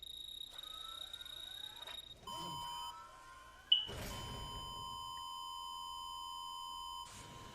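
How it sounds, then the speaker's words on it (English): Electronic beeps from the Danganronpa video game: steady tonal bleeps and sustained chime tones, starting and stopping in several bursts with one sharp louder ping, fairly quiet and with no talking. "That's a lot of beeping."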